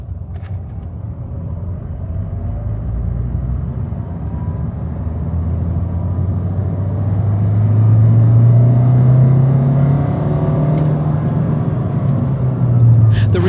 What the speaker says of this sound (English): Now, I'll take the car for a road test to capture some dynamic logs.